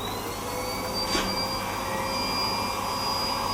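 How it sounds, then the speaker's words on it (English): A decontamination vacuum machine drones steadily with a high-pitched whine, a constant mechanical hum throughout with a brief rush of air partway through. "We remove this with the deco vacuum"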